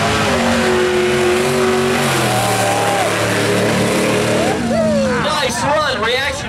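Blown Chevrolet small-tire drag racing car launching down the strip at a night drag race, a loud roaring engine climbing in pitch as it pulls away, with an announcer talking over it.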